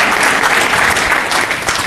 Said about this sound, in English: I hear some clapping. We get some clapping for that.